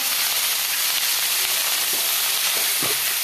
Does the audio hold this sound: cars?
no